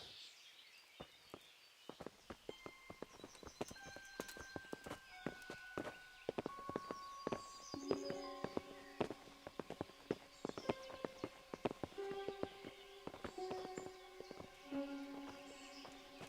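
Horse hooves clip-clop in a walking rhythm in the medieval game Kingdom Come: Deliverance, faint and steady, with scattered tones and game ambience around them.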